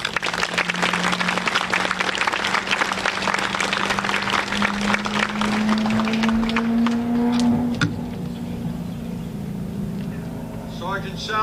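A crowd claps at an outdoor Memorial Day ceremony in Yardley Borough, honoring American Legion Post 317 Auxiliary members. Dense, steady clapping lasts about seven seconds under a low hum, then thins out as a voice begins.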